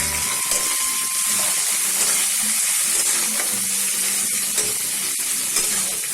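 Onion and bay leaves fry in a pan with a bright, continuous sizzle. Soft stirring scrapes and small pops come through close by.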